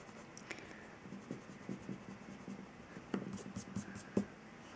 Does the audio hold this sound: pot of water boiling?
no